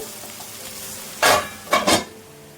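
Okra being cooked and stirred in a pan, with a low steady sizzle and then a few short, loud scraping stirs of a spoon against the pan near the end.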